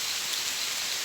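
Rain falls steadily in a dense, even hiss of many drops striking surfaces, continuous and fairly loud with no pauses or voices.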